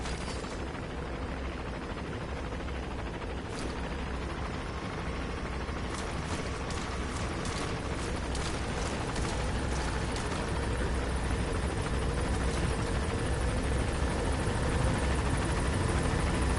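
A video-game helicopter flies overhead with a constant loud, dense rotor roar, steady throughout, with faint clicks and small bangs scattered in the middle.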